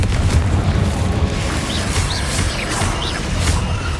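A Confringo blasting spell explodes in Hogwarts Legacy, producing a sustained roaring boom with faint high chirping tones scattered over the dense rumble.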